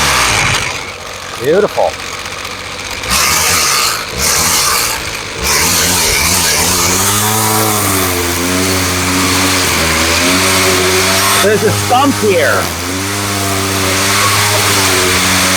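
A repaired weed eater's small engine starts after a pull and revs up and down repeatedly, loud and close, with someone talking over it.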